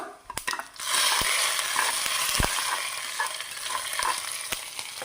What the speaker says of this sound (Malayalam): ഇനി നമ്മൾക്കിത് കറിയിലേക്കൊന്ന് ഒഴിച്ചു കൊടുക്കാം